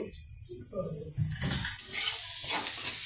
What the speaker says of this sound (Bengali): এখন ডিম ভোনা করছে পেঁয়াজ দিয়ে